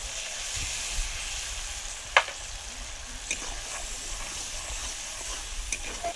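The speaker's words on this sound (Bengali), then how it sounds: "সর্ষে পোস্তটা ভালোভাবে আমি ভেজে নেবো তেলের সাথে" Mustard and poppy seed paste frying in oil for potol posto, a steady close sizzle with soft stirring scrapes and an occasional sharp clink of the utensil.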